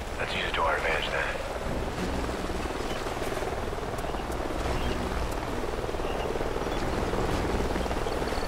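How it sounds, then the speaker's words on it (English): A helicopter's rotor thumps steadily at a distance in the Call of Duty: Ghosts campaign, faint and constant beneath a wash of background noise, with a brief chirping sound near the start. "Sounds like a chopper's up ahead of us."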